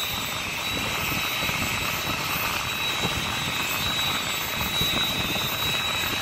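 A distant airplane engine near an airport control tower drones steadily with a whining high tone, loud and unbroken for several seconds.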